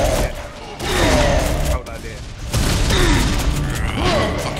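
Gunfire strikes a character in a video game, heard as bursts of loud rapid shots separated by brief lulls, with voices talking over the action.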